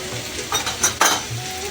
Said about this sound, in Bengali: মশলাটি আমি ভালোভাবে কষিয়ে নেব